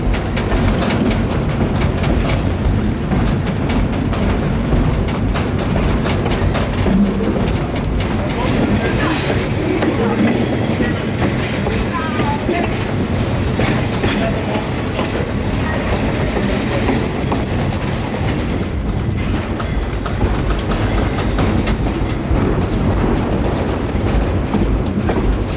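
Steam locomotive 1835 runs along a heritage railroad line carrying a load of water, a loud continuous rolling rumble with clickety-clack of wheels on the rails, heard from close behind over a long stretch.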